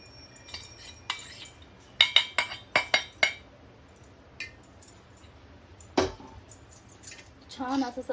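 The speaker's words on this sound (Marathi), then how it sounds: "पहिलं चमच्याने एकजीव करा" A spoon stirs a warm mixture of wheat flour and besan in a bowl, making bright clinks and scrapes against the rim in uneven bursts, up close and fairly loud.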